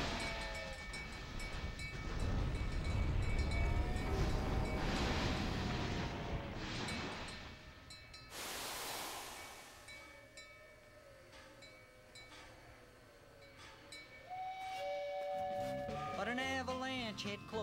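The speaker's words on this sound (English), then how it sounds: "Me must get train through." A train pushing through a narrow, dangerous snowy mountain pass rumbles loudly and steadily, with a sharp whistle-like burst midway and tonal horn blasts near the end over a busy musical mix.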